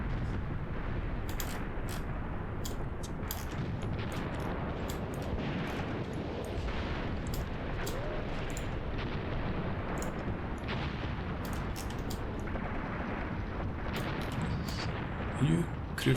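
Called-in artillery fire in the World War II tank tactics game Graviteam Tactics, a steady stream of distant thuds and sharp cracks repeating irregularly over a constant rumbling battlefield bed.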